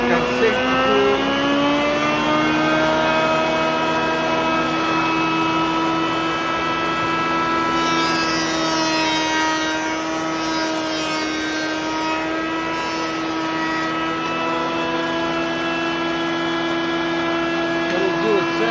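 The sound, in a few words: wood jointer planing laminated exotic wood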